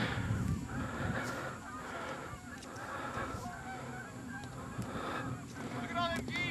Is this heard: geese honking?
yes